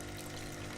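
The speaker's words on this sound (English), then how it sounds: "The left wall is lined with churning tanks of water." Churning water tanks lining a fishing shop wall in the video game Kentucky Route Zero: a steady, low, pump-like agitated water drone, continuous and fairly faint.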